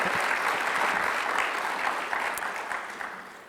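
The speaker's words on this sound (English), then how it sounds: "How about a rousing applause for all these great men?" Dense audience applause at a Peoria community event honoring local men, a steady wash of many hands clapping that holds strong throughout and tapers slightly toward the end.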